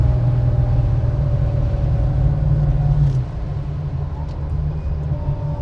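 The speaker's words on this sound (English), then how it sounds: "Slow down a little bit. Downshift to third. Synchro into third." 1966 Ford Mustang coupe driving along with a loud, close engine rumble that shifts pitch midway as it downshifts and slows, settling into a lower, quieter drone.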